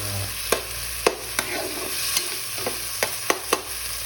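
Corned beef sautéing in a pan with a steady background sizzle, punctuated by sharp scrapes and clinks of a spatula stirring against the pan at irregular intervals, close and fairly loud with no talking.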